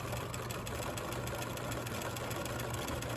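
A sewing machine stitching a fabric landscape postcard, its needle chattering in a fast, even rhythm that runs steadily and close throughout.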